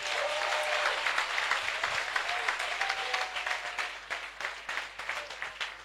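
A church congregation at a Sunday testimony service applauds to acclaim Jesus, loud, dense clapping with a few cheers that gradually thins into separate rhythmic claps toward the end.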